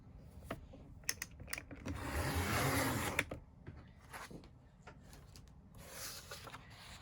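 Paper is cut by hand for a scrapbook page kit, giving a run of close, crisp snips and a longer rasping slice in the middle, with light rustling and handling noises around it.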